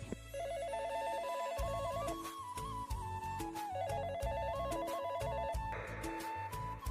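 A telephone rings with a repeating electronic melodic ringtone, its bright notes pulsing in a steady pattern close to the microphone, alone without any talking.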